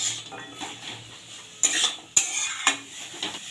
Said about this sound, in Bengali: এই সজনে ডাঁটাটা দিয়েও আমি কিছুক্ষণ নাড়াচাড়া করে নিলাম